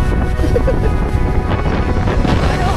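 Strong mountain wind at a campsite, roaring gusts buffeting the microphone up close and continuous, with a voice briefly audible among the blasts.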